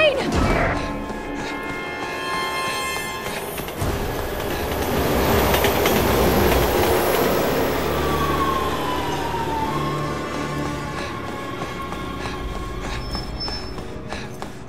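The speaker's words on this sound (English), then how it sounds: "Look out! Train!" A train in Resident Evil 6 roars past loudly for the whole stretch, with a heavy rumble swelling in the middle and then easing off, with no talking.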